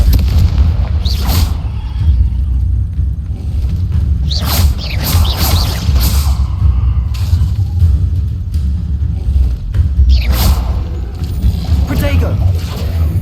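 Confringo spell blasts erupt in Hogwarts Legacy, repeated booming explosions over a constant low rumble of game combat, with a voice talking throughout.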